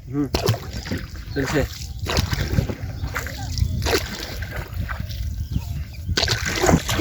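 A small wooden boat is rowed across a wetland with water lilies, with repeated oar splashes and sloshing close by while people talk throughout.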